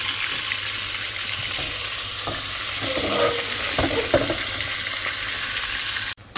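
Fish pieces fry in a pan of hot oil with a loud, continuous, close-up sizzle and some stirring crackle. A brief clatter cuts in right at the end.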